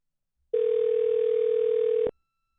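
A single long ring tone on an outgoing prank phone call, steady and clear, lasting about a second and a half with nothing else around it.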